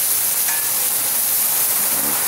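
Food sautés and sizzles on a Blackstone 17-inch propane griddle, a steady close, loud frying hiss with faint scraping as it is stirred, and no talking.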